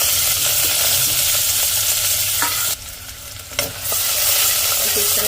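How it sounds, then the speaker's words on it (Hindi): Chopped onions dropped into hot oil in a pressure cooker hiss and sizzle steadily, with a brief dip and clatter midway as they are stirred; no talking. "इसमें प्याज डाल देंगे।"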